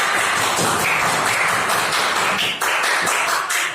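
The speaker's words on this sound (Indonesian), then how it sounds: "Tepuk tangan untuk kelompok dua." Steady applause from a class group, continuous clapping at an even level throughout, fairly close and loud.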